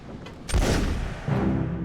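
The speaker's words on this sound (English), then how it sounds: "the captain killed himself by gunshot" A single gunshot in the ship-deck mystery game Return of the Obra Dinn, a sharp close blast followed by a fading rumble and a softer low thud, heard alone.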